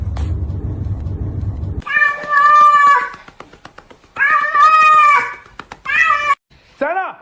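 A cat meows loudly and repeatedly in drawn-out, wavering cries, some strained like a caterwaul, after a low rumbling rustle at the start, with short gaps between calls and one brief final yelp.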